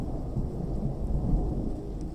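Steady rain falls outside at night, a dense, even wash of sound with low rumbling underneath, continuous and moderately loud with no voices.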